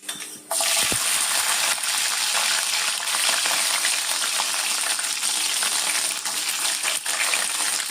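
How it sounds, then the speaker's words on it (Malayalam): Garlic dropped into hot oil with popped mustard seeds for an Indian gooseberry pickle, setting off a loud, continuous close sizzle with small crackles throughout. "എണ്ണ നല്ലോണം ചൂടാകുമ്പോൾ ഒരു ടീസ്പൂൺ കടുകിടും കടുക് പൊട്ടിയിട്ടുണ്ട് മുടുക നമുക്ക് വെളുത്തുള്ളി ഇടാം"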